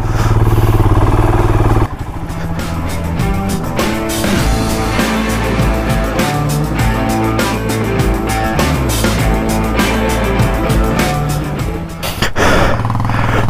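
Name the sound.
motorcycle engine pulling out of muddy off-road track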